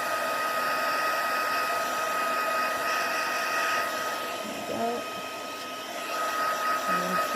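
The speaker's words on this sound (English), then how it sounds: "So let's just put the heat tool on that." A heat tool blows a steady, loud whooshing hum with a high whine throughout, drying alcohol ink on vellum up close, with faint voice-like sounds briefly underneath.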